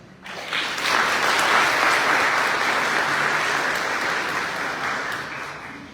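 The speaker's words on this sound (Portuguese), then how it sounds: "Palmas para esse herói." A church congregation applauds during a Sunday Father's Day service, the clapping swelling up quickly, holding full and steady for several seconds, then easing off slightly toward the end.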